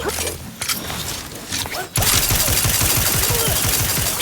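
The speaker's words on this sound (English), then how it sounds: "Wrist weapon!" Rapid bursts of automatic fire from a wrist-mounted weapon in The Outer Worlds 2, first in scattered short volleys, then a sudden sustained rattling stream that runs loud and close until the end.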